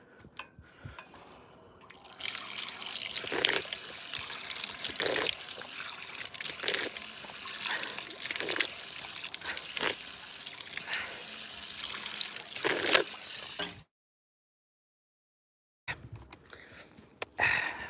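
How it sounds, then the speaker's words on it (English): Icy natural spring water from the mountains in a Russian town flows and splashes steadily at close range, with a silent gap near the end before the rushing resumes. "This is natural spring water."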